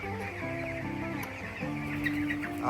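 Twenty-day-old poultry farm chickens panting in hot weather cluck and chirp continuously in a dense flock, close by, over the steady hum of a running fan.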